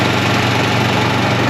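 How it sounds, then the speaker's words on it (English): Air hisses steadily out of a tractor tire valve as it is burped during a beet-juice Rim Guard fill, a loud, continuous broadband rush close by with no talking. "Air's coming out now, he's burping it."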